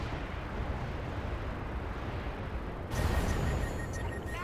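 A BattleTech mech fires all of its weapons at once, producing a thick, sustained roar of heavy explosions and artillery-like blasts, with a sharper surge of impacts partway through, loud and continuous.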